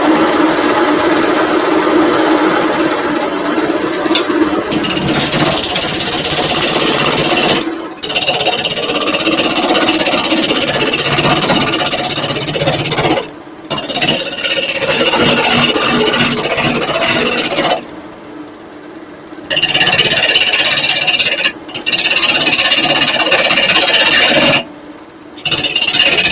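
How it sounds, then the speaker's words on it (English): Wood lathe running in a workshop, a continuous loud scraping, rasping drone with several brief sudden stops and restarts throughout. "You gotta plug the lathe back in now"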